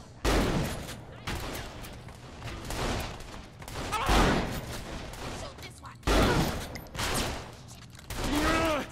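Gunfire in the video game Saints Row The Third, with repeated bursts of shots and heavy thuds through the clip, loud and busy, mixed with game noise and speech.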